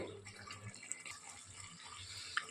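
Water is poured from a mixie jar into masala in a pressure cooker while a sambar is being made. The pour is a faint, steady trickle and splash with a few small drips, quiet and close, and no one talks.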